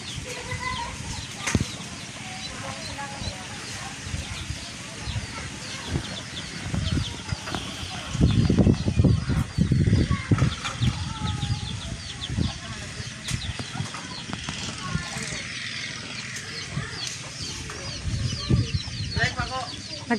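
Chickens cluck and flap their wings around a farmyard, the loose clucks coming in scattered bursts and one louder flurry of flapping, with people talking now and then in the background.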